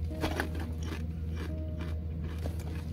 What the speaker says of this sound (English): I like Doritos, so I'm gonna eat them